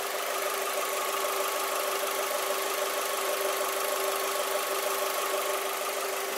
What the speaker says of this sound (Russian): Ну вот слушаем мотор.